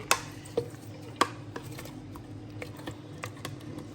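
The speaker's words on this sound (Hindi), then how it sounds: "ये हम जूसर के जग में ऐड करेंगे।" Two cups of chopped watermelon and a tablespoon of fresh mint dropped into a juicer jug, giving a few sharp taps and clunks followed by lighter scattered knocks and rustles, close and moderately quiet with no talking.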